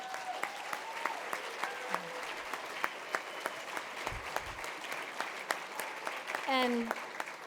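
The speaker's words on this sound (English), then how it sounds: "can we please have a round of applause for the journalists in this room?" Gala audience applauding journalists in a banquet room, steady moderate clapping from many hands with a few sharper claps standing out and faint voices underneath.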